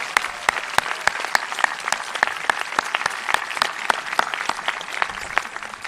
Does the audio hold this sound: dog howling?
no